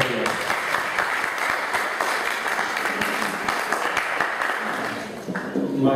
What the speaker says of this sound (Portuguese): Peço uma salva de palmas para